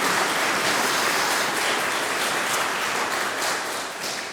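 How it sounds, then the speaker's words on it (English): Steady audience applause fills a church concert hall, a dense, even wash of many hands clapping that holds for several seconds and tapers slightly at the end. "Please give her a round of applause for putting all this together."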